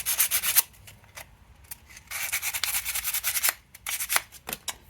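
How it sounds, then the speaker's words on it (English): Sandpaper rubbed back and forth over a freshly cut metal car key for an F150, a close, dry scratchy rasping in uneven strokes with brief gaps. "And again, take a little bit of sandpaper."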